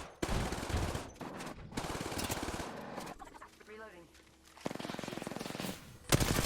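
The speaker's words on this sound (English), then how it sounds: "All I do here is spam grenades and blind fire into the smoke, hoping to hit something" In Apex Legends, dense bursts of rapid automatic gunfire and grenade blasts ring out in long rattling volleys with a brief quieter gap where a voice speaks, then the firing resumes loudly.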